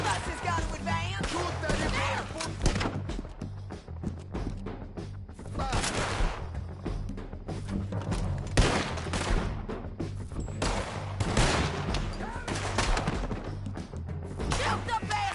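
Sustained gunfire in a PS4 shooter game, dense bursts and repeated shots running throughout with heavy thuds, loud and close, with voices shouting over the fighting.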